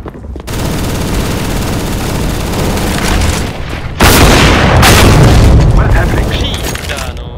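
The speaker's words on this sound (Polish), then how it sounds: "I'm throwing a flashbang!" A flashbang grenade bursts in Counter-Strike on the Mirage map: a loud, sharp bang about midway through, set against continuous rattling gunfire and in-game battle noise.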